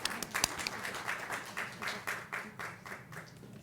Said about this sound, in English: Mary Daly was unable to be here today, but we'll still give her a round of applause